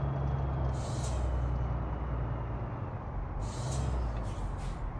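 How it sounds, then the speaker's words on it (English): Truck air brakes in American Truck Simulator, heard as two loud hissing bursts over a steady engine rumble, with no talking. "The brakes are too sensitive."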